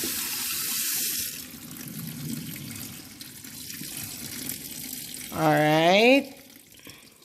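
Tap water runs into a kitchen sink as a brined turkey is rinsed, a steady hiss that continues under brief speech, ending in a short rising run of tone near the end.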